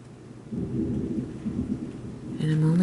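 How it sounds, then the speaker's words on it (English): Heavy rain blowing outside during a storm, a steady wash of rainfall with a deep rumble of thunder swelling and growing louder toward the end. "Boy, that rain is blowing outside."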